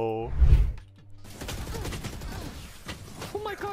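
Rapid burst of gunfire in the tactical shooter Valorant, loud and close at the start, then scattered shots and game effects with people talking over them.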